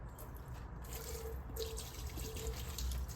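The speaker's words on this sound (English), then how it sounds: "And just regular old sink water." Ordinary tap water runs from a sink faucet into the tank of a Vevor ultrasonic parts cleaner, a steady rushing and trickling flow with a few drips, fairly quiet and continuous throughout.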